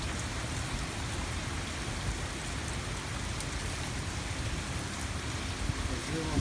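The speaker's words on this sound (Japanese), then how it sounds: "雨足が結構強くなってきました。" Heavy rain pours during Typhoon 19 in Akasaka, Minato, Tokyo, in October 2019, a dense, steady hiss of downpour across the whole stretch, with no talking and no pauses.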